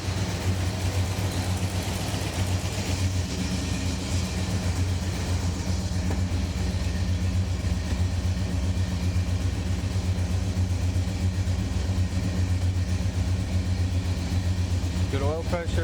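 A carbureted-to-Holley Sniper 2 fuel-injected car engine runs steadily with a deep low rumble throughout, close and loud, while people talk over it.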